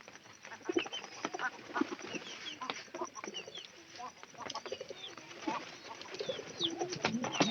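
White pigeons cooing in a loft, soft repeated coos and fluttery bird calls layered over a busy, moderately quiet background with no clear talk.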